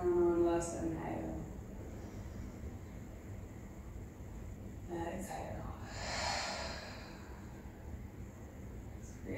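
Slow, deliberate yoga breathing during a flow sequence, with a long exhale and a deep inhale heard as soft airy hisses close to the microphone over a faint background hum.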